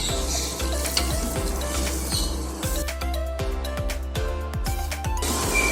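Tomatoes and curd cooking in a pot of chicken dum biryani, a steady close sizzle and fry with repeated sharp clinks of a ladle or spoon against the metal pot, no voices.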